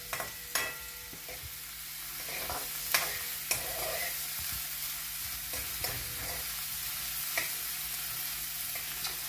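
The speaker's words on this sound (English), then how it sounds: "And we're gonna golden fry the onions as well." Chopped onions frying golden in a pan over a high flame, a steady hiss of sizzling oil with sharp clicks of stirring now and then, close and fairly quiet.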